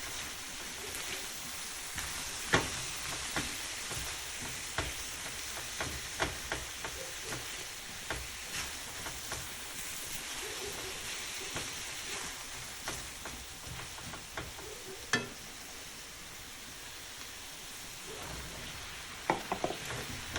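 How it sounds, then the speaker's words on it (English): Onions fry and get tossed in a pan for Chinese-style pepper steak with lo mein, a soft, rain-like sizzle dotted with irregular clinks and scrapes of the utensil, steady and fairly quiet with no voices. "Add the onions. Toss it all up."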